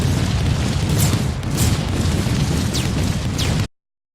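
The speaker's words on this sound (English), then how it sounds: "we also have one for hit B as well, which is just a series of hand grenade sounds that I've got set up" A series of hand grenade explosion sound effects for a Doom weapon redesign: deep, rumbling blasts rolling one into the next with repeated sharp cracks, loud and continuous until an abrupt cutoff near the end.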